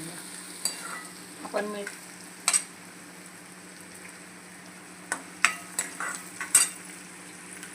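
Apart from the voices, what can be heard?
onions frying and being stirred in a kadhai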